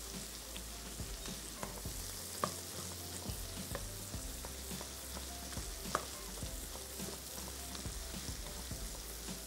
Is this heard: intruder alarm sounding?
no